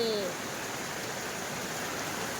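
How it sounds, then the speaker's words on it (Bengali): Heavy rain pours down outdoors in a steady, dense hiss that stays even throughout, with no pauses or distinct drops standing out. "মুষলধারে বৃষ্টি হচ্ছে"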